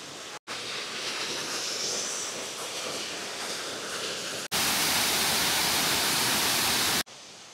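Waterfall at Doi Inthanon in Chiang Mai, a dense steady roar of rushing water that jumps louder partway through, broken by brief cuts, with no voices.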